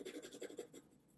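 A pencil scratches firmly across drawing paper in quick repeated strokes, close and quiet, with no other sound around it.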